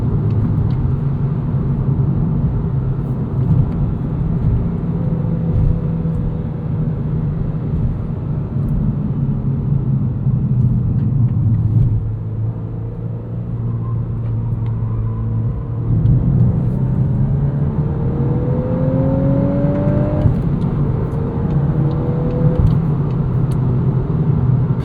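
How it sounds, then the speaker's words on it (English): A 2024 Volkswagen Golf R six-speed manual hot hatch pulls out of a corner in race mode, its engine droning and rumbling from inside the cabin with rising tones as it accelerates. "Plenty of power, plenty of torque to pull you out of the corner."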